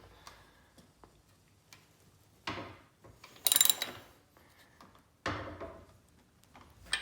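A threaded bicycle bottom bracket is tightened with a tool. Sparse metallic clicks and ratcheting ticks come close up, with a few sharper bursts between quiet gaps.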